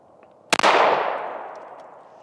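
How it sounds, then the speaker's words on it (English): A single sharp shot from a Smith & Wesson M&P 5.7x28 pistol fired one-handed, a close, loud crack followed by a long ringing decay outdoors. "if you want to do any kind of one-handed shots, even we can."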